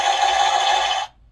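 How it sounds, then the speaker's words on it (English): Rapid, tinny electronic machine gun burst from an NECA ED-209 action figure from Robocop, played through a small toy speaker, a dense buzzing rattle lasting about a second before cutting off abruptly. "Wow, that's a pretty long machine gun sound effect."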